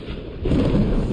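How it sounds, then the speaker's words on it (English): Thunder from a lightning storm in the Conan Exiles video game, a deep rumbling roll that swells louder partway through with a rain-like hiss, no voices. "Lightning storm."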